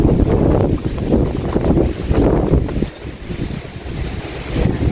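Steady gusting wind buffets the microphone, a continuous low rumble that swells and dips without pause, with no voices.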